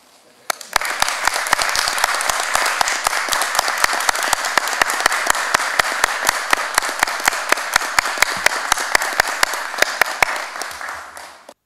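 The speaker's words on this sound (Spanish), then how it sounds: "para cerrar y pedir el aplauso unánime" A room of attendees at a citizen security committee meeting claps steadily for about ten seconds, with crisp, evenly spaced rhythmic claps standing out over the broader applause before it stops.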